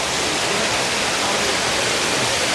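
The Akasa Ganga waterfall at Tirumala gives a continuous, even rush of falling water, close and fairly loud, a steady hiss with no breaks or voices.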